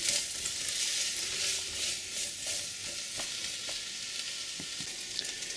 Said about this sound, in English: Alright, our onions are cooking.